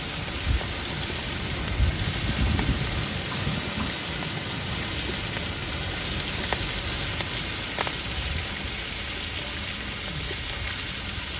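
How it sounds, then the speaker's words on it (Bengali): Prawns frying at a beachside stall in Puri, a loud continuous hiss of hot oil with a low rumbling background and occasional faint clinks. "এখন ভাজা হচ্ছে"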